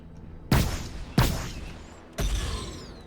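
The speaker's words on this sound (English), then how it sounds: "There's my forward cannon." Three loud, booming cannon shots from a ship's forward gun in the space game Star Citizen, spaced slowly about a second apart, each with a sharp blast and a rumbling decay.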